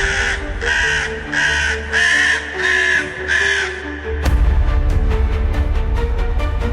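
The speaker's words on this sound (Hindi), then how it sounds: "उनका ध्यान कौओं की अशुभ ध्वनि से टूटा" Several crows caw in an ominous horror-story sound effect, a run of about six loud, harsh calls, then a denser burst of sharp repeated caws, close and with no voices.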